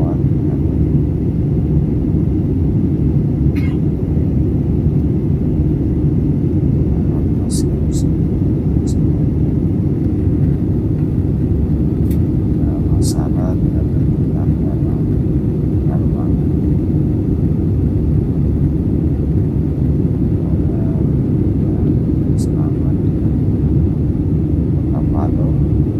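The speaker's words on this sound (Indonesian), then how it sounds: "perjalanan Makassar Palu dengan pesawat" Inside a passenger plane on the Makassar to Palu flight, a loud, steady rumble and roar of the engines fills the cabin without a break. A few faint clicks and cabin sounds come through on top.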